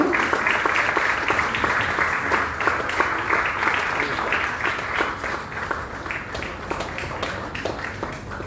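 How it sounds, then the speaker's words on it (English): Audience at a book launch clapping continuously, a full, steady wash of many hands with distinct sharp claps, fairly close and loud, without talk over it. "You can keep clapping, ladies and gentlemen."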